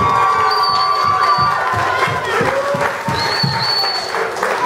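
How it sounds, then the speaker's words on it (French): Audience at a church youth theatre performance applauding and cheering, steady dense clapping with children's shouts and whistle-like cries mixed in, sustained throughout. "Est-ce que nous pouvons les applaudir un peu plus fort?"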